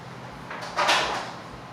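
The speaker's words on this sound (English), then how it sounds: "I'll open this tank." A flowerhorn fish tank lid being opened, one brief scraping slide that swells and fades over about a second against a steady low room hum, close and alone.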